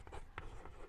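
Pen scratching across paper in a Hindi-medium trigonometry lesson, a few quick close strokes in a short burst with no talking over them.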